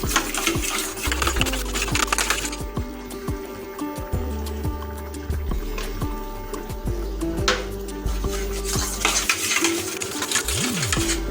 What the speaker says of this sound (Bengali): মিনিট 2 ভালোভাবে ফেটে নেব